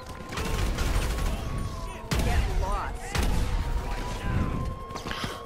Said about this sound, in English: I'm actually getting shot at.